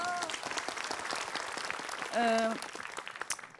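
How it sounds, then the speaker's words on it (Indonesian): Applause from a studio audience at an Islamic talk show taping, moderate clapping that runs under a brief tonal sound, fairly soft and somewhat distant. "Tepuk tangan dulu"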